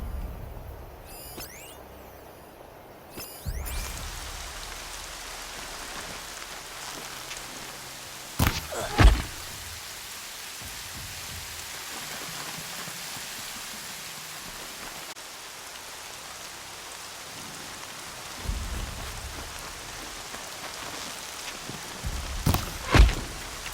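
Rain falling in the video game Horizon Zero Dawn, a steady soft hiss of drops on surfaces throughout, broken by a few sharper bumps and thuds near the start and end.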